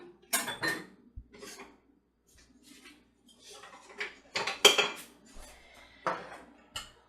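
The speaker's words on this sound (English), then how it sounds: "Now I'm going to switch from the whisk to a spoon." Utensils clink and scrape against a bowl of homemade bread dough as a whisk is set aside for a spoon, giving a series of sharp, close metallic knocks and rattles with quiet gaps between them.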